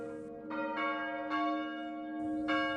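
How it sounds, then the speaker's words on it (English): Church bells ringing at the end of a funeral mass, a few resonant strikes spaced about a second apart with long humming tones sustaining between them, moderately distant and with no voices. "Church bells rang as the funeral mass ended."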